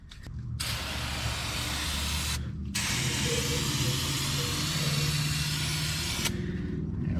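Cleaner sprays steadily from a nozzle onto a Toyota Camry engine during a valve cover gasket replacement, a loud close hiss running almost continuously with two brief pauses between bursts.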